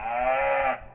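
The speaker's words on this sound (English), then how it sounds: "That cow is seriously giving me the creeps." A cow inside a barn lets out a single loud, close, drawn-out moo lasting almost a second, then it cuts off.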